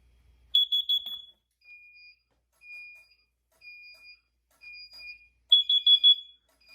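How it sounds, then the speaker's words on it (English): Carbon monoxide alarm during a test, a loud close burst of rapid high beeps, then several evenly spaced single electronic tones, then another rapid beeping burst, with no voices. "I guess I'll test the carbon monoxide device here."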